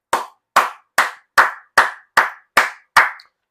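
Eight sharp, evenly spaced hand claps from a single person, close and loud, each one separated by a short silence.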